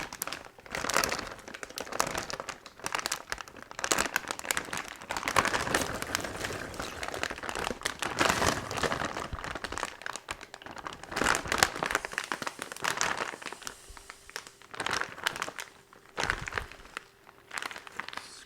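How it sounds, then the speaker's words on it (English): A plastic brining bag holding a turkey in citrus brine is handled and sealed, giving close, irregular crinkling and rustling bursts with brief pauses throughout. "Now we're just going to zip up the bag."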